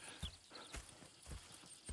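Horse hooves clip-clop in Red Dead Redemption 2, several distinct, evenly spaced, fairly loud strikes at a walking pace, with no one talking.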